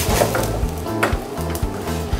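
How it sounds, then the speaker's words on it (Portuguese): A Portuguese-style refogado base with beef stock, a pinch of salt, peas and oregano sizzles loudly and steadily in the pan, a close frying crackle with light stirring clinks and no talk. "deixo o meu refogado cozinhando"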